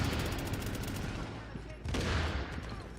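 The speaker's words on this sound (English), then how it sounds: "you're getting hit everywhere with grenades and bullet damage" Grenade blasts and bursts of gunfire in The Division 2 on PC, a dense, loud and continuous barrage of combat noise with a heavier surge toward the end.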